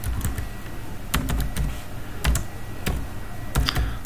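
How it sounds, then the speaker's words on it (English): A password is typed on a computer keyboard in quick irregular bursts of close, crisp key clicks. No one talks. "I'm going to enter my password here."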